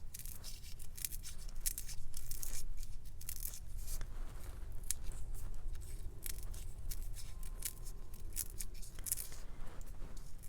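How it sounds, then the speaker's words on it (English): Printed tissue paper torn by hand into lengths for homemade tape, giving continuous close, crackly rustling and ripping with brief sharper tears throughout. "Okay, so I'm gonna just keep tearing."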